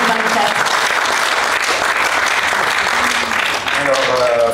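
Continuous applause rolls through the audience at the Brive book fair opening ceremony, thick and even from start to end, with a few voices faintly audible beneath the clapping.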